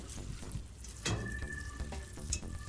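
Pasta being mixed with garlic powder, sea salt and onion powder, a soft wet clatter and scraping of utensil against bowl with a couple of brighter clinks, close and fairly quiet.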